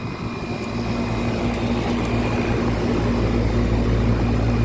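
A 1995 Tempstar 3-ton central air conditioner with a Copeland reciprocating compressor runs at its first startup of the season, giving a steady, loud, continuous hum and fan drone with a slightly shaky rhythm.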